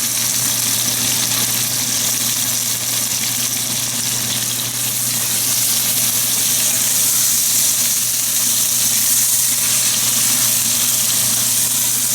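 Chicken seasoned with pepper frying over medium heat in a pan, giving a steady, close sizzle that holds at an even level throughout with no talking.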